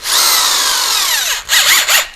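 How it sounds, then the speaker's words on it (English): A power drill spins a wooden cotton-tip applicator during a generator carburetor repair, a loud close whine that winds down, then revs in a few short bursts. "Put it in my drill"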